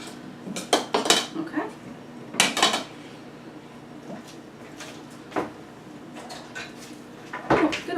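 A whisk stirs wet cake batter for a pumpkin walnut cake in a bowl, giving irregular bursts of metallic clinking and clattering against the bowl, separated by quieter pauses.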